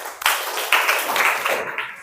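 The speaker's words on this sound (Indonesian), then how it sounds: "Oke, kita tepuk tangan buat semuanya." A classroom of children claps hands together in a steady burst of applause, dense and close, lasting throughout.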